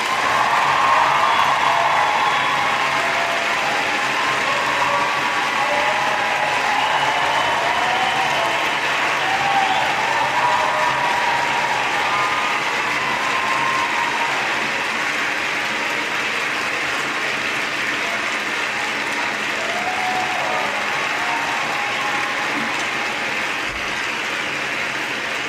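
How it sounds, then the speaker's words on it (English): Sustained, dense applause from a crowd, steady and loud for the whole stretch with no voices breaking through. "Give yourself a round of applause."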